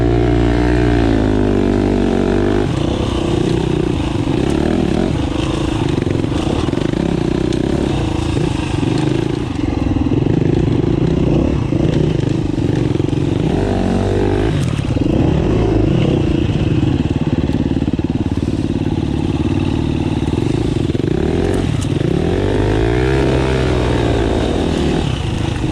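A Suzuki RMZ 250 dirt bike rides a tight trail, its engine loud and close, revving up and down continuously with rough, crackling bursts as the throttle opens and closes.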